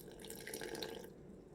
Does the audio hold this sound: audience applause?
no